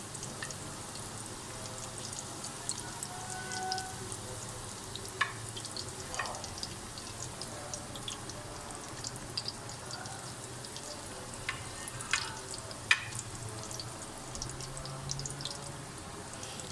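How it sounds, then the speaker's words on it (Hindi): Chickpea-lentil stuffed bitter gourds frying in hot oil, a soft, steady sizzle with scattered crackles and pops, fairly quiet and continuous, without talk. "ये देखिए इस तरह आसानी से आप ना फ्राई कर सकते हैं।"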